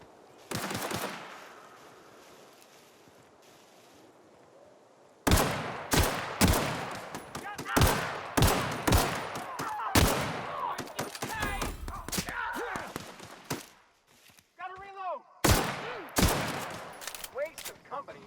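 Bursts of gunfire from The Outer Worlds on Xbox One X, rapid loud volleys and single shots crackling in clusters after a quieter opening, with a brief lull before a final burst.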